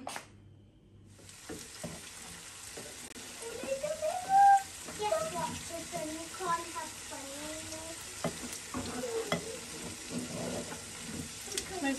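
Chicken frying and being stirred in a pan with light spice, a soft steady sizzle with occasional scrapes and clinks, close by, while a person talks over it.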